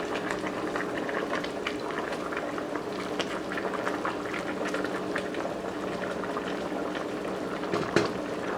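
Pasta simmers in a pot on low heat, giving a soft continuous bubbling and gurgling at a steady, gentle level, close by with no talk.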